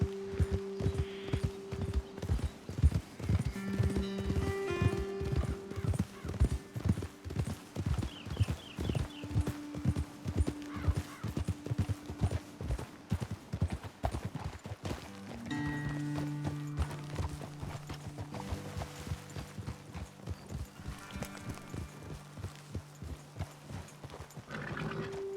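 Horses' hooves in Red Dead Redemption II clip-clop steadily as riders climb toward a hilltop lookout, a close, rhythmic trot running throughout with a musical score underneath and a brief whinny.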